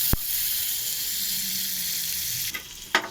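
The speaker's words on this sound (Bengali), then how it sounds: "দেখো তেলের মধ্যে আলু পটল ছেড়ে দিলাম।" Potatoes and pointed gourd frying in hot oil give a steady, close, bright sizzle that holds throughout, broken at the very start by a sharp click and near the end by a couple of brief stirring scrapes.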